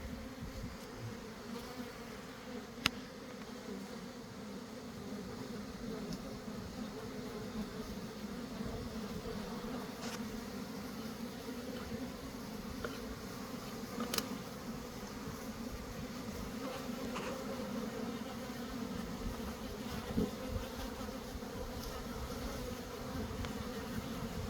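Honey bees buzz around a beehive in an outdoor apiary, a dense, steady droning hum of many insects close by, with individual bees now and then passing near the ear, and no voices.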